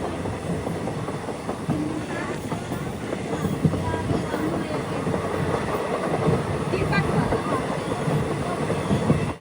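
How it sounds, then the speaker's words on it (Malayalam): International passenger train running from Jaynagar in India to Janakpur in Nepal, heard from inside as a steady rumble with rhythmic wheel clatter and occasional faint squeals, moderately loud, no talking. "ട്രെയിൻ ഇപ്പോൾ അടുത്തൊരു സ്റ്റേഷനിലൊക്കെ എത്തിയിരിക്കുകയാണ്."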